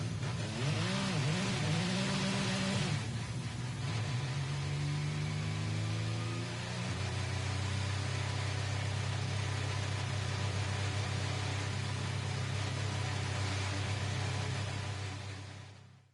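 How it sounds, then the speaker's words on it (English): Race car engines in the GT Sport video game rev loudly and continuously during an online lobby joining sequence, with layered sweeping pitch rises and a sustained droning tone, heard without speech. "Just give us a second to go through the engine rev phase here of the lobby joining sequence."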